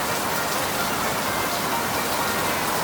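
Steady, dense rain pours down loud and close, a constant broadband hiss with no talk over it.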